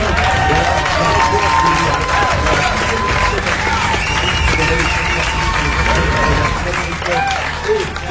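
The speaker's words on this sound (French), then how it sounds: "Vos applaudissements pour Jules, pour Rodolphe, pour Franck" A crowd at a trail running race applauds and cheers loudly and continuously, with an announcer speaking over the clapping.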